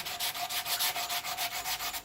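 Hand sanding putty on a skateboard deck with light pressure: about a dozen quick, even back-and-forth rasping strokes, close and fairly quiet, with no talking.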